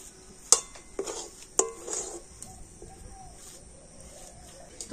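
Semolina halwa made with ripe mango is stirred continuously in a pan over low heat: a few sharp spoon clinks and scrapes against the metal, spaced apart, over a quiet background.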